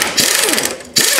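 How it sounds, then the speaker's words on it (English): An impact wrench fitted with a swivel hammers loose a 17 mm bolt on the rear trailing arm of a 2002-2005 Mitsubishi Lancer, producing loud close rattling bursts with a brief pause between them. "I'm going to use the impact wrench and a swivel."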